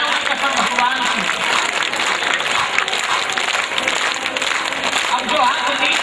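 An audience applauding at a Ram Katha religious discourse, steady sustained clapping from a large crowd filling the space, with voices mixed into the din.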